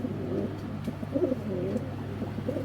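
Giribaz pigeons coo softly and repeatedly at close range, a low throaty burbling that runs steadily with no voices over it.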